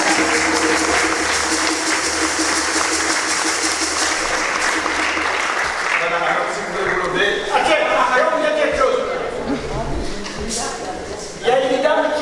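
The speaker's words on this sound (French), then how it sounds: "Vous pouvez les applaudir." A church congregation applauds during a First Communion celebration at the Saint Jean-Marie Vianney church, a dense sustained clapping that fades after several seconds, with people talking underneath as it dies down.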